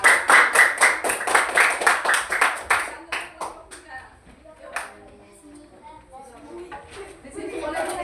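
A group claps in a steady rhythmic burst of applause for about three seconds, then a few scattered claps while people talk in a classroom.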